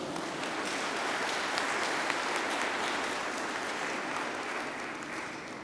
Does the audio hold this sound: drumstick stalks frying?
no